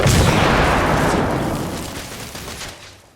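In the video game The Order: 1886, a grenade explosion bursts loud and close, then its rumbling blast decays over a few seconds with faint gunfire mixed in.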